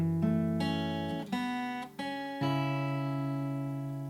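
Fingerstyle acoustic guitar plays a handful of plucked notes from a song, including a fretted A-string note sounded with the open low E. The notes ring out clearly, close and alone, each one sustaining before the next.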